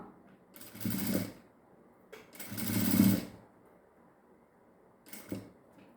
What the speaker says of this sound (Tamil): இந்த இடத்துல கெட்டி தையல் போட்டு முடிச்சிடறோம்